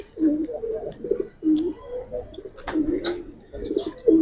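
A silver pigeon cooing up close, repeated low rolling coos in a steady rhythm with brief pauses between, accompanied by faint rustles and chirps in the background.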